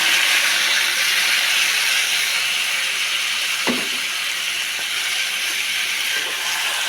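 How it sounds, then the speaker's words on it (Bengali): Chicken meat sizzles in a hot kadai with a continuous, dense hiss at steady loudness, briefly punctuated by a single soft clunk midway. "এবারে আমি মাংসটা দিয়ে দেবো কড়াতে।"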